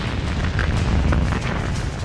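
A massive cosmic explosion blast striking the ground and throwing up a mushroom cloud of rock and earth, heard as a loud, continuous deep rumbling roar with sustained heavy low-end energy and no pauses.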